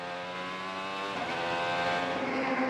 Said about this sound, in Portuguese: O carro chegando com cano cheio no final da curva, no final da reta